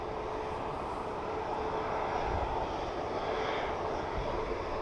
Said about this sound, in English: Watch for the Ryanair in the background.